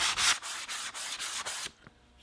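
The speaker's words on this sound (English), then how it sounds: "I'll use 150 grit sandpaper and rough up the edge." Hand sanding the edge of a wooden picture frame with 150 grit sandpaper, quick rhythmic scratchy strokes, close and steady, ending abruptly.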